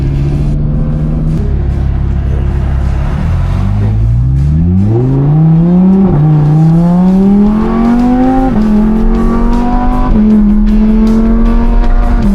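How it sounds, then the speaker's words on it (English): Exotic cars with loud engines rev and accelerate nearby, rising engine tones shifting through gears, steady roar heard from inside with the windows down. "you gotta have the windows down to hear these motors"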